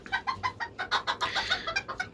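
Black Serama rooster with a white hen, giving a run of short, fairly loud clucking calls in steady pulses, close by, with no talk.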